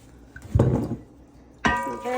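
Filtered water is poured into a pickling brine in a kitchen, two short splashy bursts separated by a pause, close and moderately loud with no talking.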